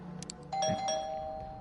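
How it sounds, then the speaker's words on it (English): The doorbell of an occult bookstore in the video game Vampire The Masquerade Coteries of New York rings as a single clear two-tone chime that lingers briefly over quiet room tone. "You reflect as you ring the doorbell of the occult bookstore"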